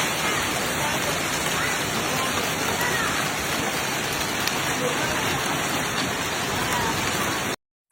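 Heavy overnight rain pours continuously over Wuhan City during a storm, a dense, loud, even hiss of drops on surfaces with no talking, ending in a sudden cut to silence.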